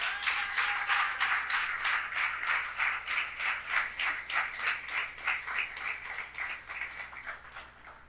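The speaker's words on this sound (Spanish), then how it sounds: "Un aplauso fuerte al Señor." A church congregation claps rhythmically in unison, steady beats repeating through the whole stretch, fairly close and lively with no voices over it.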